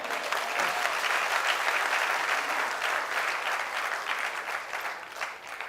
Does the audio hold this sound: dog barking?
no